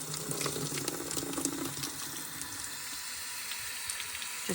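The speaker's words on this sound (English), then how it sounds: "Just had the hose on her for a couple of minutes now and she's stopped the heavy breathing" Garden hose spraying a steady stream of cold water over an overheating peahen inside a cool stone barn, a continuous hissing splash throughout with no talk.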